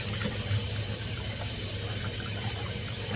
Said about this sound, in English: so I'm gonna rinse it off